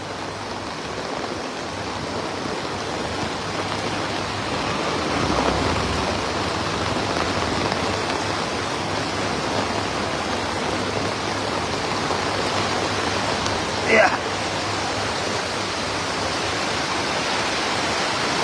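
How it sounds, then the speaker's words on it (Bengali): Heavy rain pours down steadily over an outdoor cattle market, a dense, loud, continuous roar with one brief knock near the end. "ভরপুর বৃষ্টি নামছে, ভরপুর।"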